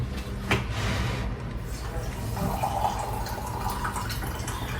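Water runs into a container for soaking chia seeds, a soft continuous trickle and drip with faint background noise.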